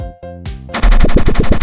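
A cartoon toy gun fires in an animated story. A short electronic whoosh and rising tone lead into a loud, rapid burst of about six punchy shots in quick succession, with no talking.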